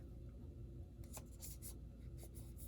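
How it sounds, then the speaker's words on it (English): A paper label is folded in half, giving a few soft, close crinkles and light rubbing swishes in a quiet room, brief and faint with no talking. "I'm going to fold it in half."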